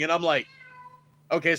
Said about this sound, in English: That's my cat. Sorry, he's freaking out because he wants to come in.